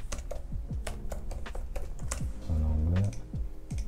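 Quick typing on a computer keyboard while entering a short word in a web design session, a rapid burst of close, crisp key clicks with a voice briefly heard partway through.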